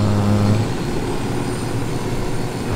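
A helicopter in the video game Ghost Recon Wildlands drones steadily and loudly throughout, a continuous engine and rotor roar with no voices over it.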